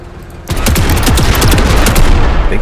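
Rapid weapon gunfire in the sci-fi tactics game MENACE, a sudden loud burst of dense repeated shots starting after a short quiet lead-in and continuing steadily to the end.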